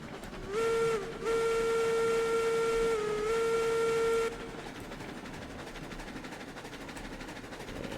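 A steam locomotive in the RailRoads Online game sounds a long, loud two-tone whistle with a brief break near the start, then it cuts off and steady chuffing and rolling noise carry on as the train heads out.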